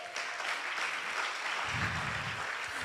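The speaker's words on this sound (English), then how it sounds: "Please, a round of applause for Lautech." Sustained applause from a crowd at a Catholic medical and dental students' national convention, steady clapping throughout with a fuller low rumble joining in during the second half.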